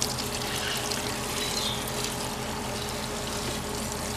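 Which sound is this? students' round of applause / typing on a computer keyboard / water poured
water poured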